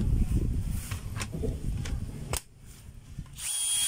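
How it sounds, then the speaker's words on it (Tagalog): A DeWalt DCD791 cordless drill with a faulty chuck is test-run, its motor whirring loudly with a few short on-off bursts, dropping away briefly before spinning up again near the end. "So meron po akong estimate dito 39165 cordless pa rin mga kabay. Bali ang model niya ay DCD791."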